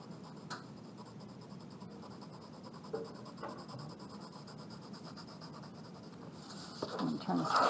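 Sharp 2H graphite pencil shading lightly across paper, a soft continuous scratchy hiss with faint strokes, close and quiet, under a quietly speaking voice.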